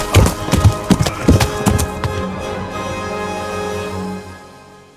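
A horse's hooves clip-clop in a quick, uneven run of sharp knocks, close and loud for the first two seconds, then fade into a lingering hum.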